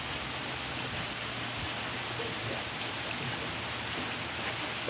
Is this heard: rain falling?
yes